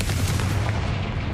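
A Confringo spell blast in the video game Hogwarts Legacy. It comes as a dense, loud burst of booming, crackling impact noise with heavy low-end rumble that fills the whole short moment.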